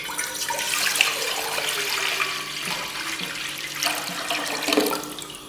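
One and a half litres of water pour into a cooking pot on a lit stove, a close splashing stream that rises and falls in pitch as the pot fills, with brief pauses.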